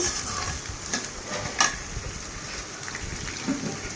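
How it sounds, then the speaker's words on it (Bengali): Cardamom, cinnamon, cloves and bay leaf sizzle in hot oil in a wok. The frying hiss is steady and close, broken by a few scraping clicks of stirring, with no talk. "প্রথমে কড়াইতে তেল দিয়ে"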